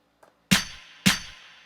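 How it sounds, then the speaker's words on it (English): Two layered snare drum samples triggered together on a Maschine drum machine hit twice in a row. Each strike is sharp and bright with a short decay, and a faint soft tick comes just before them. "This is 2 different snares right here."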